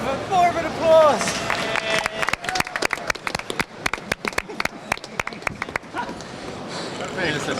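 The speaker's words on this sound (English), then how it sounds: "We have more of an applause." Applause from onlookers after a climber's dyno attempt on the Alex Honnold Free Solo boulder: rapid, sharp clapping close by that lasts several seconds, with voices and a dog's bark near the start.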